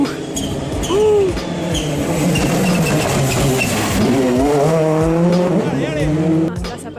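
A Citroën C3 rally car passes at speed on a Rallye du Quercy stage, its engine loud and close, the pitch shifting as it goes by under the crowd's excited exclamations.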